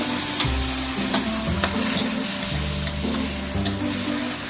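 Chicken adobo with soy sauce stirred in a pan, a continuous sizzle with a low bubbling rumble and occasional light scrapes of the spoon, close and steady, with no one talking.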